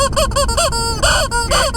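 A rubber squeaky toy chicken squeaks loudly and close, several quick rhythmic squeezes, each a bright wavering honk, over a rumbling background.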